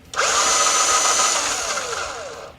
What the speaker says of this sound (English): The barrels do rotate, so let me just give you a good look. Powered by a V18 drill battery.